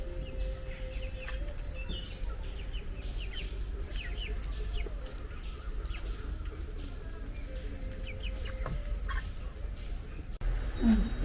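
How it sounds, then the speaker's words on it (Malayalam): Chickens clucking around a Kerala home, with other birds chirping, carry on continuously at moderate distance over a steady low hum, and a brief louder clatter comes near the end. "കിളികൾ ഒച്ച വെക്കുന്നു"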